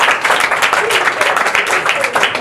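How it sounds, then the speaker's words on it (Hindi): Loud, steady applause from a classroom of students cheering a classmate named Raju, dense clapping sustained for a couple of seconds with voices mixed in. "और राजू के लिए जोरदार तालियां।"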